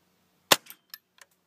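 Sharp report from a Cooey 64B rifle, a single loud crack followed by short metallic echoes or pings, the can struck downrange, then quiet.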